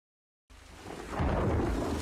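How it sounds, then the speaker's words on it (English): Rain with rolling thunder in a fantasy TV drama scene, starting abruptly after silence as a low rumble that swells louder and sustains over a wash of falling rain. "It's raining."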